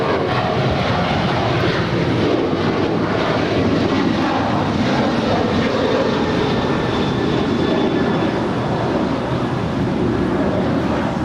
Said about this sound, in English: That is United Airlines 387 departing to Houston Intercontinental.